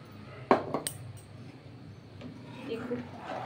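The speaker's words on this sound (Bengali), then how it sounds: "যতক্ষণ পাক না হবে, ততক্ষণ আমাকে এটা নেড়ে যেতেই হবে" A spoon knocks and scrapes against a pan as mango kheer is stirred, a few sharp clinks near the start followed by softer scraping, close and moderately quiet, with a voice speaking around it.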